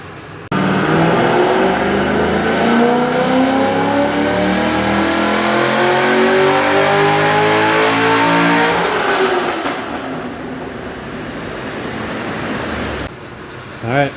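A C6 Corvette Z06 V8 roars on a dyno, its pitch climbing steadily through a long high-RPM pull before the revs drop away and the engine settles to a lower drone, loud and close with no talking.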